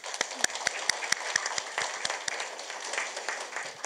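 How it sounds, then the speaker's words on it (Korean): Staff at an expanded senior officials' meeting of a district office give a round of applause, a steady patter of many hands with sharp individual claps standing out, continuing at moderate loudness throughout with no talking. "우리 다 같이 응원의 박수 부탁드립니다."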